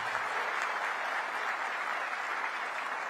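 A ceremony audience at a dairy cooperative's diamond jubilee event claps in steady, dense applause that holds evenly throughout without any break.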